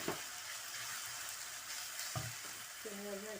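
A ginger, garlic and green chili paste sizzles in a hot pan with a constant close hiss, broken by a couple of brief utensil scrapes and tones; no voices.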